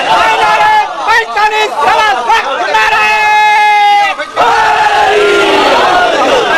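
A large crowd at a Shia religious gathering answers a Nara-e-Haidari call with a loud, sustained chant of massed voices, rising in unison and briefly breaking before surging again.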